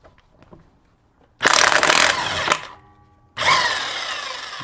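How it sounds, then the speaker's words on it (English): A Harbor Freight Bauer electric impact wrench rattles lug nuts off a 2006 Honda Pilot in two loud, close bursts of hammering, the first about a second long and winding down before the second starts. "I'm going to use the Bauer, Harbor Freight Bauer electric impact wrench. See how quickly this takes the lug nuts."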